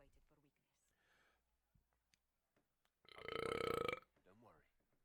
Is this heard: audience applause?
no